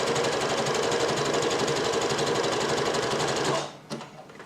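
A sewing machine stitches elastic onto fabric with a steady, close, rapid mechanical whirr for most of the clip, then stops abruptly, leaving a few faint handling clicks.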